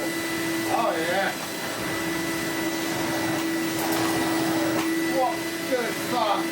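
Goblin Omni 1000 vacuum cleaner running after a cord reel repair, a steady motor whine with airflow hiss, continuous and fairly close, with occasional talk over it.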